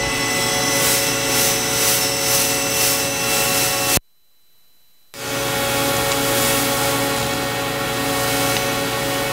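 A Nakamura Tome TW-8 CNC turning center spindle runs with a steady, loud tonal whine and hum, cut off abruptly by about a second of near silence before resuming.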